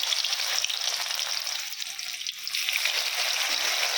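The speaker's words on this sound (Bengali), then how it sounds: "আলুটা ছেড়ে দিই। তেলটা গরম হয়ে গেছে," Potatoes fry in hot oil, giving a steady, close, bright sizzle and crackle that runs continuously without pause or talking.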